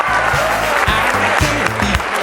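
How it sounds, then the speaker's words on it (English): High school students applauding a music legend at an Atlanta event, a loud sustained wash of clapping with steady tones running underneath. "Give him a huge round of applause."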